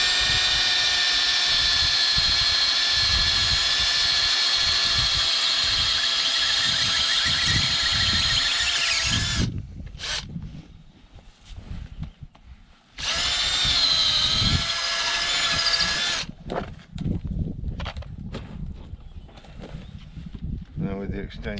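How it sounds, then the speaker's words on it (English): A power drill with an extension bit countersinks screw holes into a wooden fence post for a box strainer, whining loudly and steadily at close range and then running again in short bursts, with someone talking in between. "I've got to countersink it because the screws aren't long enough."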